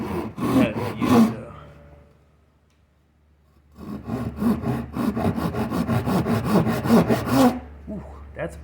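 Two folding pull saws, an Irwin and a ToughBuilt, cut through wood in close, rasping strokes: a short run of two strokes, a pause, then a longer steady series of quick rhythmic pulls.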